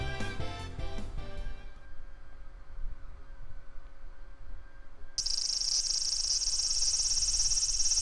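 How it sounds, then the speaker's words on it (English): Cicadas in a video game, a bright high-pitched continuous buzzing drone that starts abruptly partway through and holds steady, loud, after a short stretch of quieter background sound. "Ah, good cicadas."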